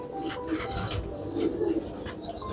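Firozpuri pigeons flap their wings in short bursts close by, with faint coos and chirps over a steady background murmur.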